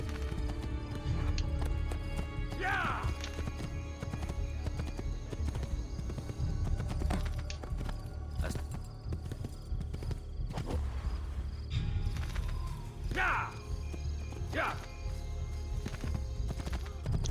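Horse hooves clip-clop steadily in Assassin's Creed II, a continuous trotting rhythm with a couple of whinnies, set against dense game ambience and background bustle.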